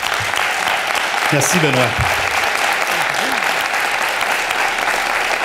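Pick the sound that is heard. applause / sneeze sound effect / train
applause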